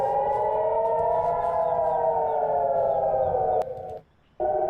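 Air-raid siren sounding over a live Middle East conflict feed, a loud sustained wailing tone gliding slowly down, cutting out near the end, then briefly returning, with no speech.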